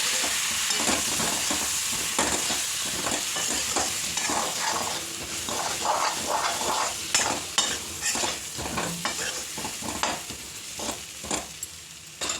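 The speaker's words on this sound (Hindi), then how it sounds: "तो मैं इसी दही वाले चम्मच से इसको मिक्स कर देती हूँ।" A curd spoon stirring a spiced potato mixture in a pan, with repeated scraping and clinking strokes over a soft sizzle, close and continuous with no talking.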